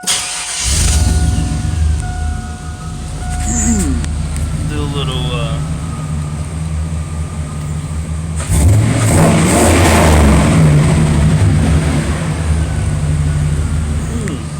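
A lifted GMC truck engine with dual exhaust tips fires up with a deep rumble, idles roughly, then revs louder partway through; someone talks briefly over the engine noise.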